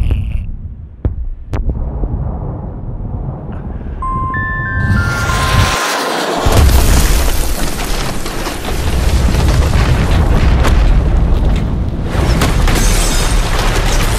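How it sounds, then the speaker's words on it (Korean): Missile launch and explosion as a video sound effect: a low rumbling boom rises into a sustained roaring blast with whooshing noise, loud and continuous, with no talking. "비행체가 미사일을 쐈다. 요격당했다."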